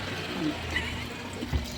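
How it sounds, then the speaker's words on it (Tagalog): Tap water runs steadily into an empty plastic bottle, a continuous close filling rush with a couple of small knocks, while a voice talks faintly underneath. "Siyempre yung ating empty bottle, lagyan natin ng tubig."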